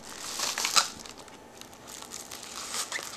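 Plastic bubble wrap cut to size around a package from Japan is crinkled and handled up close, giving soft, irregular crackling rustles with a sharper crunch near the start.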